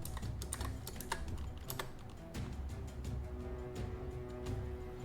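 Rapid typing on a computer keyboard during an online tabletop game session, a close, busy patter of key clicks running continuously under a low background hum.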